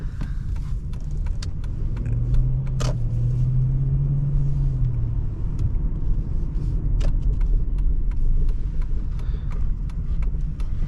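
A 2004 Lexus LS430 driving, its engine and road noise forming a steady low rumble inside the cabin, with a brief tonal hum early on and no talk.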